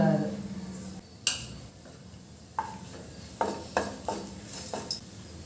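Chillies dropped into hot oil in an already heated kadai, a brief sizzle at the start followed by a sharp clink and several light taps of a spoon against the pan, faint and close.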